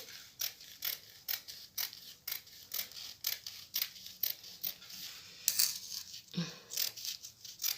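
Scissors snip through T-shirt fabric to cut out a sleeve, a quick run of close, crisp cutting strokes repeating in an uneven rhythm.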